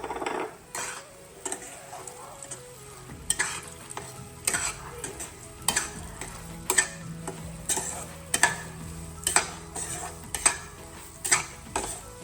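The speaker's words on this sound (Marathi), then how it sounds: "चला आता पहिले ना रवा भाजून घेऊ याच्यामध्ये." Semolina roasting in ghee in a pan, a steady sizzle broken by repeated scraping and stirring strokes of a spoon against the metal, close and clear with no talk.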